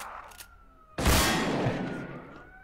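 A single loud shotgun blast in the Gmod zombies mod, a sudden sharp burst that rings out and slowly decays, following a brief quieter stretch of game noise.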